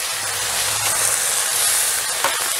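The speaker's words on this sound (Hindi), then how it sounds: "अब देखिए मैं डाल रही हूँ इसमें चावल।" Rice tipped into a hot pan of oil for shahi matar pulao, a steady close sizzle and hiss holding evenly throughout with a brief rustle near the end, no voices.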